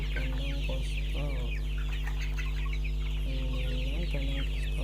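Chickens older than two weeks cluck repeatedly in a postal-type rearing coop, short overlapping calls rising over a constant low mechanical hum, close by.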